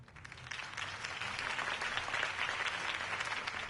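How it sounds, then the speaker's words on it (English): Crowd applause after a campaign speech in the Batman Telltale video game, a dense, steady wash of clapping at moderate level that swells slightly and holds through to the end. "could have heard that applause"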